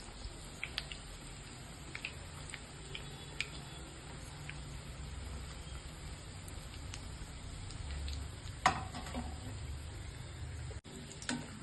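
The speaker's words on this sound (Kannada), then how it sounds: "ಈ ಥರ ಎಣ್ಣೆಗೆ ಹಾಕ್ಕೊಳ್ಳಿ. ಇದು ಬೇಯ್ತಾ ಇದೆ" Onion bonda frying in hot oil, a faint, steady crackle and light bubbling patter with a few soft clicks from turning.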